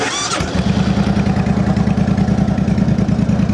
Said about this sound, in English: Go ahead and start it up so you can hear those Cobra pipes.